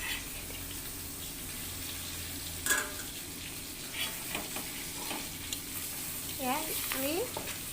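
Small fish wrapped in turmeric leaves cook in a pan with a steady soft sizzle and faint stirring scrapes, plus a brief clatter near the middle and a little background voice toward the end.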